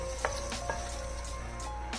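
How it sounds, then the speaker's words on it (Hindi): Soft, continuous sizzle as hot tempering is poured into black masoor lentil dal, a low steady hiss with a few brief splutters over a constant background hum. "तड़का हम मसर के अंदर डाल देंगे।"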